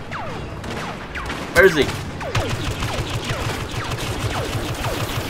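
A heavy turret in the Star Wars Battlefront video game fires a burst of blaster shots, one loud blast followed by rapid descending zaps, while a player speaks over the gunfire.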